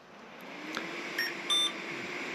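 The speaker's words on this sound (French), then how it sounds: "il a fait un petit bip pour indiquer qu'il était prêt" Motor controller giving a couple of short electronic beeps once powered up, faint tones over a steady background hum with no talking.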